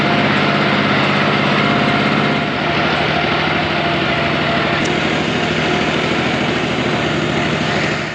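A steady tractor engine drones continuously at close range, loud and unchanging, with no voices.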